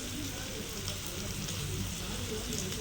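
Dried fish (karuvadu anchovies) frying in a pan with a steady, dense sizzle that stays even and close throughout, with no pauses.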